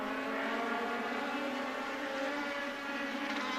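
Legend race cars run side by side around an asphalt bullring oval, a dense, steady engine roar that stays loud and constant throughout with no pause or voices.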